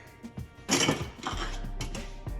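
Shrimp tipped into a pot of smothered okra and sausage, with close metal clinks and clatter against the pot followed by a soft, wet tumbling hiss as they settle in.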